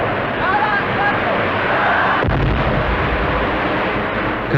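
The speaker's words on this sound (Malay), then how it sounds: "tembakan meriam 14 das menggegar bumi di sekeliling ibu negara Kuala Lumpur" A cannon salute booms around Kuala Lumpur during Malaysia's 1971 National Day ceremony, a loud heavy blast over dense crowd and ceremonial noise.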